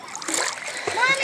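Water splashes in a swimming pool with a bright, continuous splatter while a voice chatters close by.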